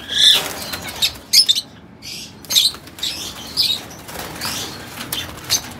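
Lovebird chicks in an aviary colony: sharp bursts of wing flapping as a chick is caught by hand, with short chirps mixed in, close and intermittent.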